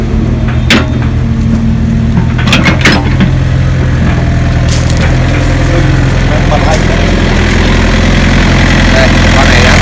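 An excavator engine idles at an excavator yard with a loud, steady, close mechanical drone. A few sharp clanks and clicks come early on.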